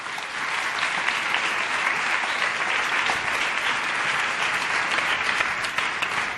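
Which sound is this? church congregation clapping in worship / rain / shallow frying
church congregation clapping in worship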